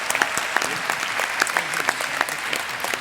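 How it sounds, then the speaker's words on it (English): Audience at a trivia challenge event applauding the winning teams, dense close clapping with individual sharp claps standing out, steady for the whole stretch. "Big round of applause for them."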